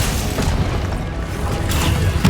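Casting Glacius in Hogwarts Legacy produces a loud, dense burst of icy magical impact noise that roars continuously through a busy combat soundscape.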